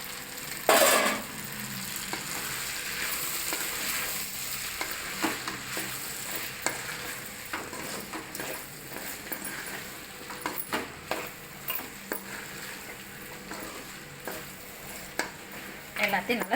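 Chicken 65 pieces being stirred in a frying pan with steady scraping and sizzling across the whole stretch, plus scattered sharper clinks of the utensil against the pan. There is no talking.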